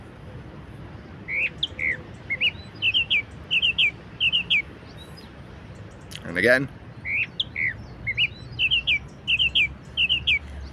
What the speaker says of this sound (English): El mirlo, classic bird, the black bird in English.